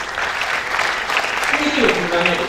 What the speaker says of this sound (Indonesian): yang setuju tepuk tangan untuk Tuhan.